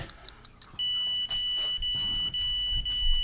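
A PetSafe-style rechargeable training collar, the PetRainer, gives off a sustained high electronic beep tone, briefly interrupted twice, after a few short soft clicks at the start; no voices, fairly close.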